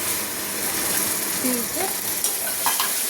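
Tomato paste goes into a hot pan, setting off a loud, steady sizzle with scraping stirs and a few clicks and knocks of the utensil against the pan.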